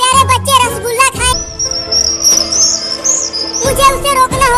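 Birds chirp rapidly at a nest in a tree, bright repeated tweets close by, with a long high whistling trill in the middle and bursts of chirping at the start and end.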